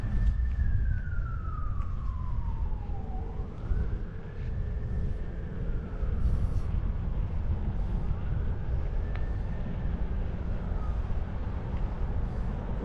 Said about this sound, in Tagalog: Pero kailangan tumigil ka pagka may ambulansya.